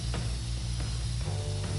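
Spray paint hisses from a can in inFAMOUS Second Son, a steady dense rush covering a wall white, with faint clicks and a low hum beneath and no talking.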